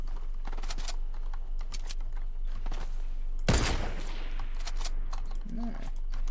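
A single sharp, loud sniper shot cracks out midway through Fortnite gameplay, set among faint clicking and tapping sounds.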